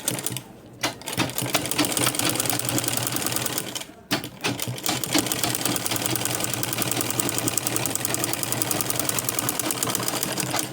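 A sewing machine top-stitches a zip onto a travel bag with rapid, continuous mechanical stitching that stops briefly near the start and again around the four-second mark, then runs on steadily.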